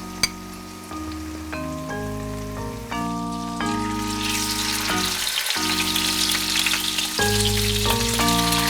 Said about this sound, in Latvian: Mēnces arī cepšu gijas sviestā.